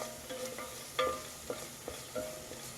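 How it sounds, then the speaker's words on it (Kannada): Spices for dhaba-style chana masala frying in a pan, a soft steady sizzle with a few sharp spatula taps and scrapes spaced across a quiet, close background. "ಎಲ್ಲ ಸ್ಪೈಸಸ್ ಚೆನ್ನಾಗಿ ಫ್ರೈ ಆಗಬೇಕು"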